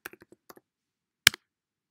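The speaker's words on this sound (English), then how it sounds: "So let me type java-version." Keys tapped on a Mac keyboard to type the java-version command in a terminal, a quick run of soft clicks followed by a pause and a louder final keystroke, close and quiet.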